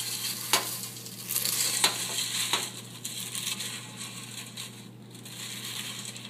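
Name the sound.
stirring cereal into marshmallows in a bowl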